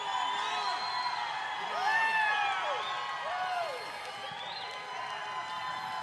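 Crowd at a battle of the bands cheering and whooping with scattered applause, a steady moderately loud roar with rising calls and whistles throughout.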